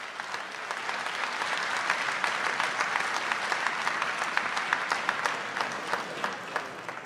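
Sustained audience applause at a Raiders sports awards ceremony at Murphy Center, a dense, lively wash of many hands clapping that builds and holds steady for several seconds.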